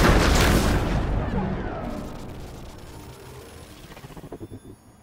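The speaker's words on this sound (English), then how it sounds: "Fire those EMP missiles!" EMP missiles explode in the Marvel's Iron Man VR video game with a loud, deep boom that rolls and fades over several seconds, ending in a faint fluttering rumble.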